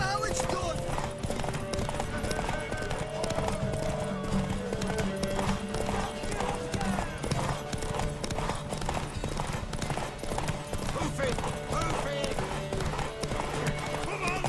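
Hooves clip-clop steadily amid a busy soundscape in the video game The Witcher 3: Wild Hunt, with horse whinnies and voices talking over the galloping rhythm.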